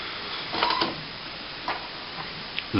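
An Epson DX8400 inkjet printer charging ink after a continuous ink supply system install, humming steadily with scattered soft mechanical ticks and clicks, ending in a louder clack.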